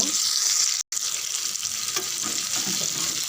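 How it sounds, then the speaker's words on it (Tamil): Pomfret fish frying in oil with curry leaves in a pan over low heat, a steady close, bright sizzle running throughout with one brief dropout near the start and no talking. "5 நிமிஷம் மீன் நல்லா வேகட்டும்"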